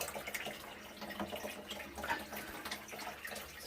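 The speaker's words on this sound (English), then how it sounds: "So we see like this is the water coming out." Water pours out of a new filter on a Flowerhorn aquarium tank, a faint, steady trickling rush with small splashy flickers and no voices.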